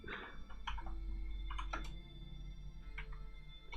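Keystrokes tap on a computer keyboard in short scattered clusters, close and fairly quiet over a steady low hum, with no talking.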